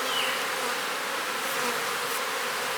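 Honey bees being moved into a nuc box hum in a steady, dense buzz that holds level throughout, close and without voices.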